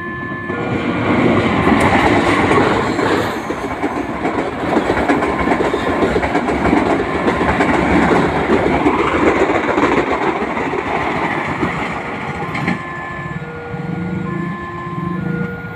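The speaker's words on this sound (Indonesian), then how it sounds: "Semoga selamat sampai tujuan kereta api Tawangalun tujuan akhir Malang Kota Lama." Tawangalun passenger train bound for Malang Kota Lama passing close by, a loud sustained rumble with rhythmic clickety-clack of wheels over rail joints for the full stretch, no talk.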